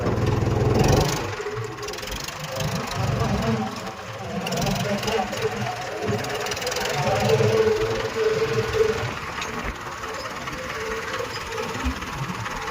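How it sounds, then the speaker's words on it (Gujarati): A tractor engine rumbles steadily at a mid pitch throughout on a farm, at close range, with faint voices and background noise mixed in. "હવે આપણું ટ્રેક્ટર થઈ ગયું હોય ચાલુ"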